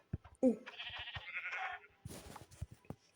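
Short sheep bleats mixed with video game sound effects, a quick bleat near the start followed by busy chirpy tones and low thumps.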